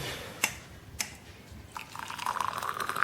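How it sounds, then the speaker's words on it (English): Boiling water is poured into a coffee mug, a rising liquid trickle and gurgle building after a couple of sharp clinks, close and fairly quiet. "the second one, I'm going to put boiling water in"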